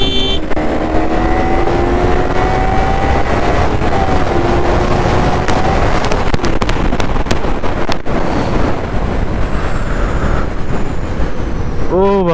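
Loud wind rush and engine drone of a Kawasaki Ninja 300 or KTM RC200 motorcycle at full throttle in a drag race, a steady roaring blast with shifting engine pitch throughout.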